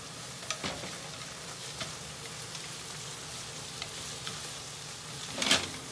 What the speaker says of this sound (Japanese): パスタを煮込みながら。